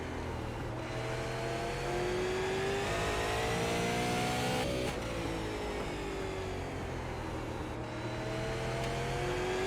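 Super late model race car engine in the iRacing racing sim, droning loud and steady with rising and falling revs through corners, no talk over it.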